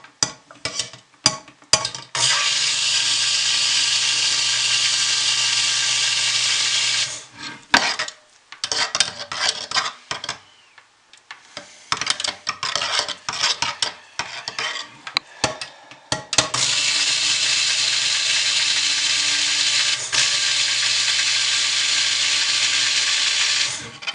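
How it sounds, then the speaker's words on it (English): A stick blender whirs through thick soap batter in long steady runs, broken by short pauses and clattering knocks against the container, then resumes for a final sustained stretch. "I'm not done stick blending, but that's a good start."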